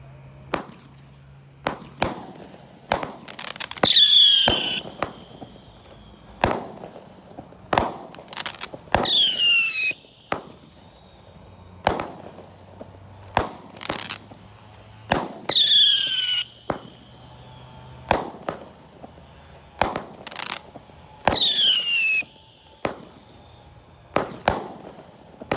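A 25-shot Family Neck fireworks cake fires on a Ramadan night, loud sharp bangs in a steady irregular series, with whistling shots rising at intervals and brief quiet gaps between reports.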